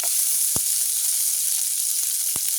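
Chilli, onion and garlic fry in hot oil with a loud, steady, close sizzle, broken by two sharp clinks of a utensil stirring the pan, no talking.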